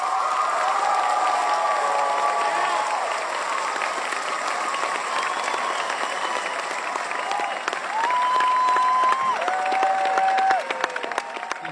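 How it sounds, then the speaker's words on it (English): A large crowd applauds loudly and steadily, with cheers and several shrill whistles rising over the clapping toward the end. "Make some noise for Oliver's family"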